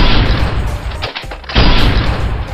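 An AWM sniper rifle fires in the mobile game Free Fire, a loud, heavy, booming blast that fills the moment, dips briefly, then swells again with no speech over it.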